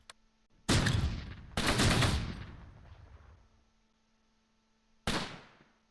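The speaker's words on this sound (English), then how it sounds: "That's a lot of grenades." Grenade explosions and gunfire in the World War II game Close Combat, set at Cheux in 1944. Three loud, sharp blasts crack out in quick succession, each trailing off in a long rumbling decay, over a faint steady hum.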